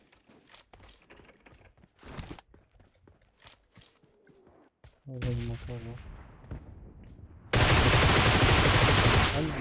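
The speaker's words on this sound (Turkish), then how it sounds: "Kafama roketler, bombalar bir şeyler düşüyor ya" Rockets and bombs explode in PUBG Mobile: scattered gunshots and clicks give way to a loud, close blast that rumbles steadily to the end.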